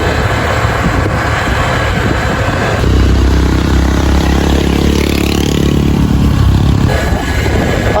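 A borrowed motorcycle's engine runs steadily close by, its rumble rising louder midway as wind buffets the microphone, with no one speaking.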